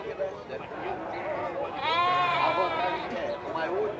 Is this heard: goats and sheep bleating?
yes